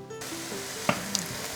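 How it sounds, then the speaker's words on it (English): Aubergine pieces sizzling in a pan on a hob over moderate heat, a soft steady crackle with a couple of sharp clinks from a utensil touching the pan, no talk. "Place them on the hob on a moderate heat until they start sizzling."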